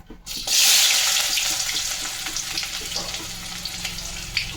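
Sliced onions hit hot oil in a pan for a chicken roast, bursting into a loud, close sizzle that settles into steady frying crackle with small pops.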